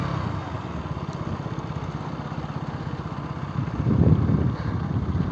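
Motorbike engine running steadily during a ride with low fuel, a continuous close, rumbling drone with fast pulsing that swells louder near the end, and no voices.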